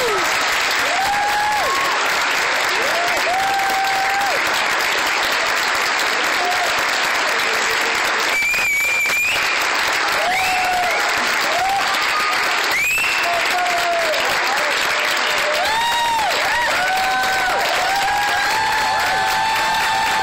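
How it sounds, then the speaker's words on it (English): Sustained audience applause with scattered cheers and whistles at a basketball award presentation, a dense, steady wash of clapping lasting the full stretch before gradually thinning. "give a warm reception and clap for Holly Ford-Emerson"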